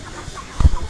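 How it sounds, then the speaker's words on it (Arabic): A Maradona breed rooster, a large chicken in the Hay Hassani district of Casablanca, gives one short, close cluck near the end after a quiet stretch. "هذا ديك مارادونا، هذا هو مارادونا."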